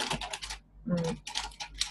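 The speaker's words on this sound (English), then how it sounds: "Sorry about the pencil noise here." A coloured pencil scratches quickly across paper while someone colours a mandala. Brisk, close bursts of strokes are broken by a short pause, and a brief murmur of voice sounds in the middle.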